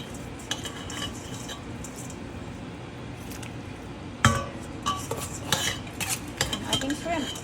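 Shrimp tipped into a pot of boiling water for dinner prep and stirred, with soft clinks and scraping of a utensil against the pot over a steady bubbling hiss, a few louder splashy knocks midway.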